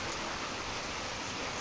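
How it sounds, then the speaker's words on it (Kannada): A hailstorm with rain in Karnataka gives a brief, dense, even roar of falling water and ice without any break or talk. "ಎಲ್ಲ ಕಡೆಗಳಲ್ಲಿ ಆಲಿಕಲ್ಲು ಮಳೆ"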